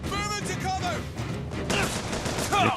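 Enemy gunfire in Bioshock Infinite cracks in several quick bursts amid game noise, with someone talking over the shots.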